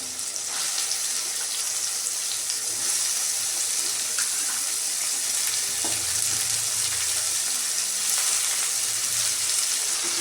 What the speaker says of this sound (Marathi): शेंग याच्यामध्ये आपण परतून घेणार आहे टोमॅटोमध्ये